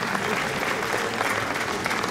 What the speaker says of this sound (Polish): Wielkie brawa dla pani